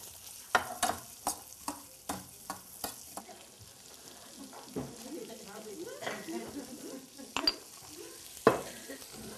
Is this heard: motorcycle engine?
no